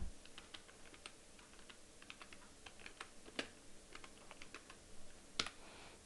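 Computer keyboard typed on at a steady, light pace, soft close clicks of individual keys with a few sharper strokes, no talking.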